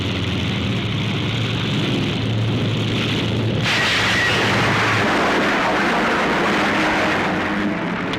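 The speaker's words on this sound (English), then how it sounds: "A damaged plane coming in for a landing gets out of control." A damaged F6F Hellcat fighter crashing while landing on a World War II aircraft carrier, heard as a loud, dense roar of engine and rushing noise with a sudden shift in tone partway through, old and harsh film sound.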